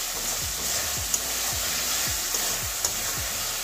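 Green peas and a sliced tomato sauté in a kadai (wok) with a steady, close sizzle, broken by regular low scraping thuds from stirring about every half second.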